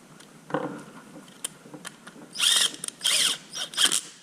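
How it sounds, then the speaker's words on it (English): Screws on a Henry Holsters Ember light-bearing holster's DCC Mod4 1.5-inch belt clip are tightened with a power driver in several short whirring bursts, close up, with small ticks and clicks between them and no talking. "And I'll snug the bottom pair of screws down."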